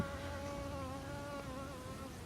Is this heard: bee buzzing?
yes